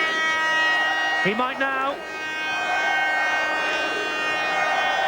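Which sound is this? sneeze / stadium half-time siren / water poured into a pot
stadium half-time siren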